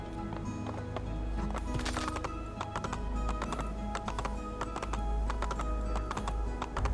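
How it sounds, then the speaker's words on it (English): Hooves of a horse clip-clop in a steady, fast running rhythm, sharp repeated taps over a constant low rumble, fairly close and continuous, in a game setting. "You run real funny, horse."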